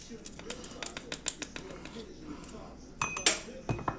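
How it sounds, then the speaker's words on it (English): Measuring spoons clink against dishes as teaspoons of taco spices are added, a string of light metallic taps and clatters with a busier burst of clinks near the end, close by in a kitchen. "I'm going to go ahead and start by adding a teaspoon of each."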